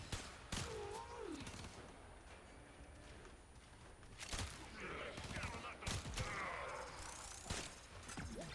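Sniper rifles fire in a video game with about five sharp, loud cracks spaced irregularly over several seconds, over a noisy game background and brief bits of voice.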